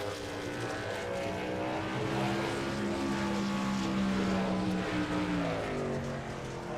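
Diesel race trucks roar around a dirt track in a Thursday night dirt league, a steady, dense engine drone with harmonic whine rising and falling, sustained and fairly far off with no talk.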